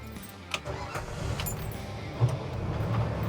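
A 1967 Ford Bronco with a three-on-the-tree manual transmission being started from inside the cab: a faint click, then the engine cranks and settles into a steady low rumble. No one speaks.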